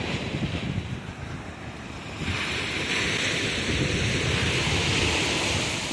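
Ocean waves rolling onto a beach in Sri Lanka make a steady, loud wash of surf with gusty wind buffeting the microphone. The roar grows fuller partway through and holds on without any voices.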